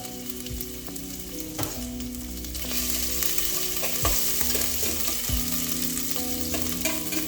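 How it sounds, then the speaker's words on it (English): Ginger sizzling in hot cooking oil in a pan for a beef stew, a steady loud crackling fry with stirring clatter and occasional sharp knocks, no voices. "So as the oil becomes hot, I'll go in with my ginger"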